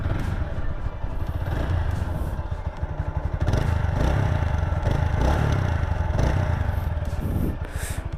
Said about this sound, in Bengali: Let's start the engine.